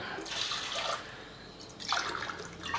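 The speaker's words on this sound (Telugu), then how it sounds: "గ్లాసు తక్కువ పప్పు 2 గ్లాసులన్నర నీళ్ళు పోసేస్తా" Water poured from a glass into dal in a flat-bottomed rice cooker vessel, two soft splashing pours separated by a short pause, fairly quiet.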